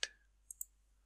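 Computer mouse clicks while working in the Configuration Manager control panel on a PC: one crisp click at the start, then two quicker, fainter clicks about a tenth of a second apart, close and isolated with no talking.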